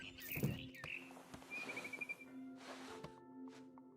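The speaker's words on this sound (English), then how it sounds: "Then I heard chirping outside my window. It was a barn swallow going back to her nest." Barn swallow chirping in the video game What Remains of Edith Finch: short, high bird chirps and a brief trill stand out over a soft ambient game backdrop, moderately close.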